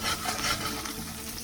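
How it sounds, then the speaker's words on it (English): Onions sizzle and pop in a pot while cooking vegetable beef soup, a steady close frying hiss with soft crackles throughout this brief moment, no voices. "sizzle, pop, pop. Sizzle, sizzle, pop, pop."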